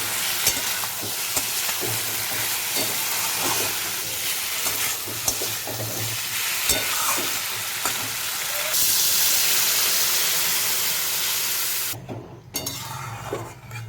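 Tomatoes and turmeric sautéing in a hot pan, a loud, close, steady sizzle broken by light stirring scrapes, which cuts out abruptly near the end before resuming more faintly.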